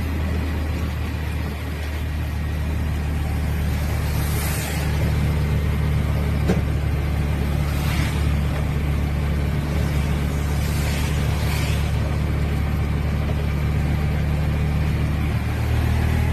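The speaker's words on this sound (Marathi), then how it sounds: "ते खूप पाऊस चालू आहे आणि ट्रॅफिक तर विचारूच नका।" Steady road traffic on a rainy day, with continuous engine and tyre noise and broad wet hiss that rises in a few passing swells, heard close and fairly loud with no talking.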